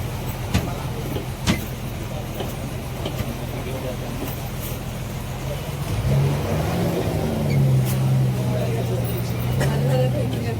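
A car starting to move off on a road trip in the Konkan region toward Dapoli, with a low engine note rising after a few seconds as it pulls away, and people talking over it throughout.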